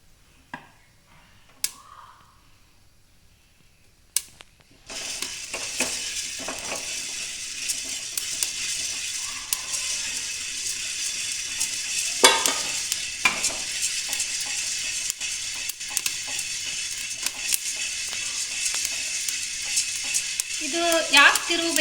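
After a few seconds of quiet with scattered clicks, a continuous crackling, sizzling roar of sorghum grains roasting into puffs in a cooker begins, with occasional scraping from stirring.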